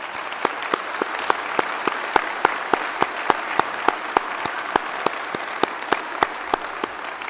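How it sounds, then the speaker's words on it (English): Audience applause for graduates at a fall college salute ceremony, steady dense clapping throughout with sharp individual claps standing out, fairly close and even in loudness. "Let's give them all another round of applause."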